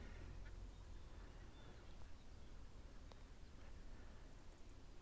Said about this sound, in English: ducks are the best birds anyway.